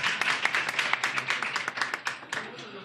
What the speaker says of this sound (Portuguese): Poxa, mais uma palma, vamos lá?